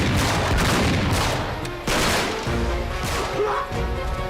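Dense gunfire and explosive crashes in the video game Uncharted 3 Drake's Deception, a loud continuous barrage of shots with heavy impacts through most of the clip.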